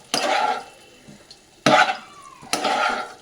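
Soybeans and fried vegetables stirred and sautéed with spices in a pan for a veg dish: three close bursts of scraping, sizzling stirring separated by brief pauses.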